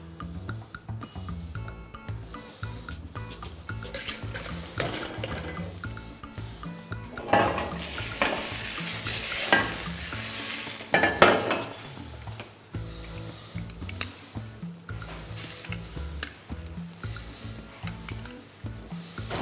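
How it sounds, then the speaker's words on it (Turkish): Tahini being stirred in a pan as butter melts for hibeş, with gentle sizzling and recurring scrapes of a utensil against the pan, close and low in level, no talking. "Tereyağımız erirken biz tahinimizi karıştırmaya devam edeceğiz"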